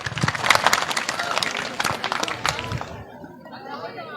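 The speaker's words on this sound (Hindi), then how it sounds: "ताली, जोरदार ताली बजाइए" An audience at a village welcome ceremony in Rampur claps loudly with crowd chatter for about three seconds, then the applause thins out and fades.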